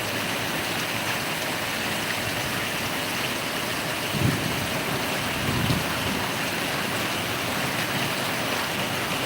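Rain falls heavily in a constant broad wash of noise, with a couple of faint low rumbles partway through.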